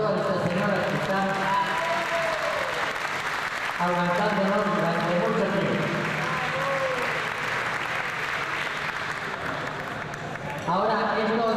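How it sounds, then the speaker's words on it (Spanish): Sustained applause from diners at a year-end dinner at an Asturian social club in Buenos Aires, a continuous crowd clapping under someone speaking over it, with a fresh swell of clapping near the end. "Vamos a pedir un aplauso para todas estas señoras"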